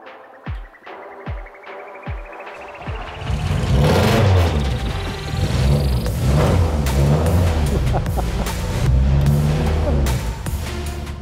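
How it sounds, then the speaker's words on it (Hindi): A loud vintage car in Pakistan cranks with a few sharp starter thumps, catches, and roars into a rising rev, then settles into a heavy, throbbing idle with repeated blips of the throttle, close and dominant. "लेट्स स्टार्ट इट अप, आप लोगों को मैं इस गाड़ी की साउंड सुनाना चाहता हूँ।"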